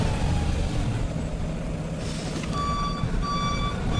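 A truck sounds its reversing alarm while backing up, a series of regularly spaced high beeps over a steady low engine rumble, fairly close.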